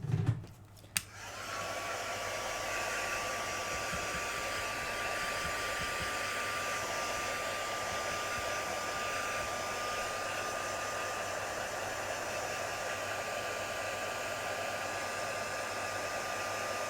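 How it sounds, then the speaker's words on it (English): A small heat gun blows hot air over acrylic paint at a scrapbooking table, a steady close whooshing hum that starts with a click and runs unbroken, no one talking. "heat gun."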